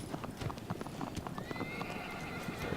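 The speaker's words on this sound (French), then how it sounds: "c'est triangle pour avancer le cheval" Horse galloping in the video game Shadow of the Colossus, rapid rhythmic hoofbeats thudding continuously over ambient game noise, with a faint whinny-like tone mid-run.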